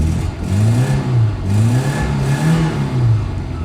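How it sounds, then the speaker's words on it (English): A 1986 Peugeot 305 GTX engine revs up and down repeatedly in rhythmic swells, loud and close, with no talking. "And it revs freely enough once it's going."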